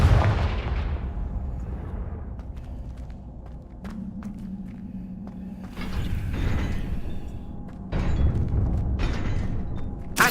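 Blasting spell explosion in a video game: a heavy, booming blast opens the clip, followed by muffled thuds, clicks and a low hum, with two further loud bursts of rumbling noise midway and near the end.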